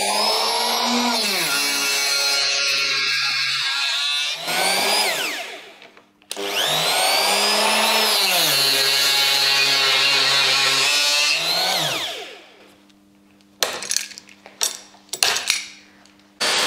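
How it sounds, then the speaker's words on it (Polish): A wood router bores hinge cup holes into a furniture board in two long, loud whining runs that spin up and wind down, followed by a few short bursts and clatter. "Ja tylko pokazuję, że jest taka alternatywa zrobić to frezarką."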